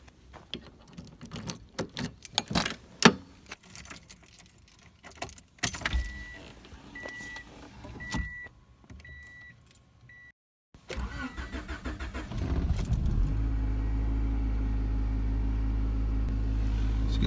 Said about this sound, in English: now we're just going to be starting up the car. We're going to go and drive it over to the driveway